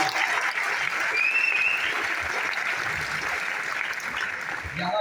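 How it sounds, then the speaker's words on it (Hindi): An audience at a stage event in Kalyan claps steadily for about five seconds, a moderately distant, even roar of many hands with a brief whistle-like tone early on. "जोरदार तालियां"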